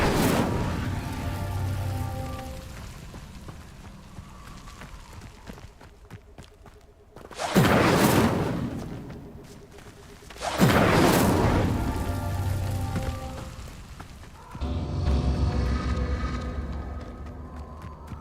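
The Incendio fire spell is cast in the video game Hogwarts Legacy, producing loud whooshing, roaring bursts of flame in separate waves over a rumbling ambient background.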